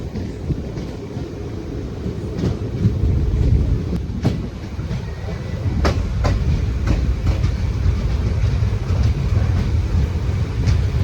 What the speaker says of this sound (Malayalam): അപ്പോൾ നമ്മൾ ലൂപ്പ് ലൈനിൽ കയറിയിട്ടാണ് സ്റ്റേഷനിലോട്ട് കയറുക